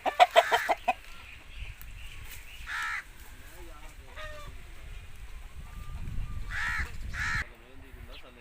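An aseel rooster, a yellow bird at a home in Dinga Chak, crows in a couple of drawn-out calls over steady background noise, with a harsher burst of calls at the very start.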